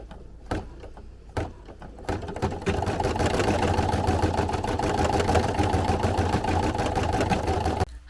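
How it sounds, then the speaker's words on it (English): An embroidery machine stitching a Gengar beanie: a few sharp clicks and knocks give way to a continuous rapid mechanical whirring and chattering, moderately close, with no talking. "Here's the setup we have going here and we're just embroidering away."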